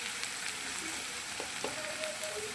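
Onions with turmeric fry in a pan with a steady, moderate sizzle and crackle, broken by a few light stirring taps and scrapes.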